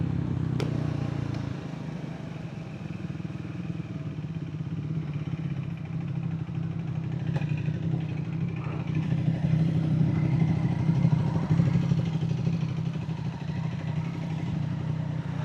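A Triumph Speed 400 motorcycle engine runs steadily and loudly up close, with a continuous low drone and light mechanical clatter throughout, rising slightly in intensity midway.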